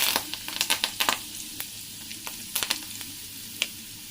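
Curry leaves and asafoetida crackle in hot oil for a tadka, with a dense hiss broken by sharp popping bursts that thin out over a few seconds, close and loud, with no voices.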